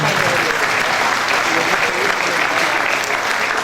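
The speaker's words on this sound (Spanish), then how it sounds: "un forte aplauso para eles, para elas" A crowd applauds the Alegría singing group at a festive gathering, a dense, loud, continuous wash of clapping throughout with no gaps.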